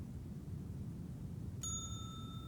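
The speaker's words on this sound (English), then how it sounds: "No hotel front desk is complete without a bell." A hotel front desk bell gives a single bright ding partway through, its clear ring lingering over a steady low background hum with no talking.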